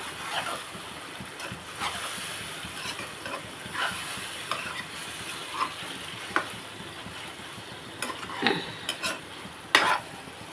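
A spoon stirs bottle gourd curry with chili powder in a pan, scraping steadily under a soft sizzle, with a few sharper clinks of metal on metal rising over the continuous frying.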